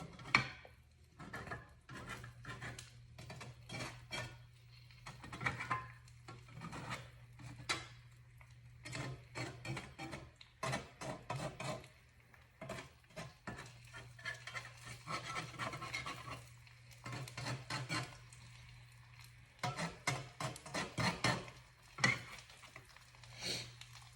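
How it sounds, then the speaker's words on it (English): A spatula scraping and nudging a fried egg around a frying pan, rapid irregular scratchy strokes repeated close up over a low steady hum, with no voices. "take your spatula and you're going to want to slowly start curving the edges of the fried egg"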